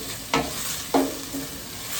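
King prawns drop into hot garlic butter in a pan, two quick sizzling hits, each followed by a soft frying hiss, close and fairly quiet.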